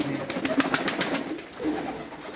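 Fancy pigeons coo softly in a loft, several low throaty calls overlapping at close range against a faint background murmur.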